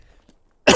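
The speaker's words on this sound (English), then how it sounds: "I've still got a bit of a cough." A single sharp cough bursts out near the end after near silence, loud and close.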